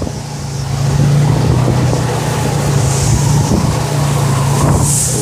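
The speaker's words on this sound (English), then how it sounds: "And we'll catch a big gust here in a second." Strong hurricane wind from Hurricane Irma in Bonita Springs, Florida, roars steadily as a gust builds over about a second and holds loud, with a deep rumble of buffeting air and broadband rushing noise throughout.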